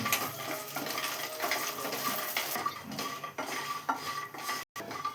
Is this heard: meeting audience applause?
no